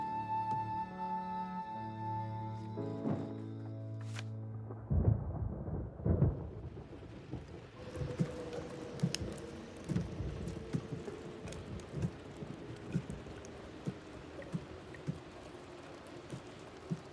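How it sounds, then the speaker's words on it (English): Heavy rain with thunder sets in after a music passage ends, a steady hiss with a low rumble and scattered sharp drips, moderately quiet and without talking. "It's raining pretty hard."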